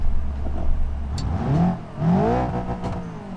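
A car engine in the video game BeamNG.drive revs up twice in quick succession, rising in pitch each time, loud and close with a mechanical whir.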